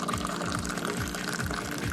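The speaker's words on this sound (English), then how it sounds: "there is an art form as well to pour in Moroccan tea" Moroccan mint tea streams from a raised pot into glasses, a continuous close splashing pour that stays steady throughout.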